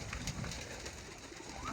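Pigeons coo softly in a loft where meat pigeons and their squabs are raised, faint low calls repeating over steady background noise.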